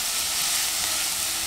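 Onion and garlic sautéing in rendered pancetta fat, a steady, close, dense sizzle with faint stirring, continuous and even throughout with no voices.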